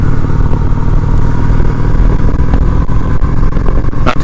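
A Honda Shadow 750 ACE motorcycle rides on a blustery, cool day. A loud, continuous engine rumble is heavily mixed with roaring wind buffeting, with occasional clattering ticks near the end.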